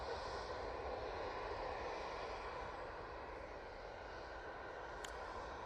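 An Emirates airliner rolling past the runway at Manchester Airport, a steady distant jet engine roar that stays even and fairly faint throughout, with no talking.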